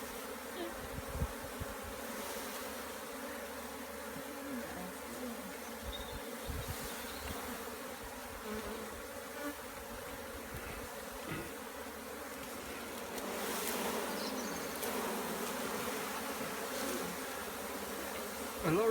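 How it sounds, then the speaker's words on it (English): Dense, steady buzzing of a large swarm of honey bees around a hive being moved, a continuous droning hum that swells slightly toward the end, close and fairly quiet with no talking. "A lot of bees."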